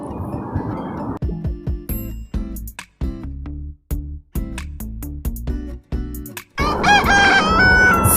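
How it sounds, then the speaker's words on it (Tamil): A rooster crows at a house in the early morning, several loud, close calls in a halting pattern broken by short gaps, ending with one long sustained crow. "சேவல் கூவியாச்சு."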